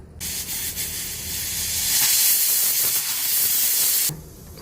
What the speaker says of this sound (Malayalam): ഒരു വിസിൽ വന്നിട്ടുണ്ട്.